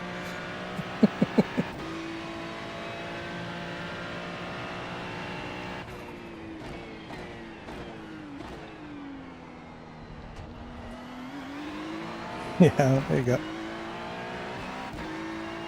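A GT3 race car circulates Sebring in testing, its engine droning steadily from the cockpit with shifting pitch as it brakes and accelerates, broken by a few sharp clicks and knocks, and a driver briefly speaks over it.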